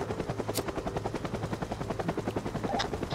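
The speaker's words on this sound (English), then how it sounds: "I have my trigger, which is what's making the helicopter fly." A helicopter in the VR game Alpine Ski Resort drones with a steady rotor chop, rapid even thumping beats under a constant engine whine, loud and continuous throughout.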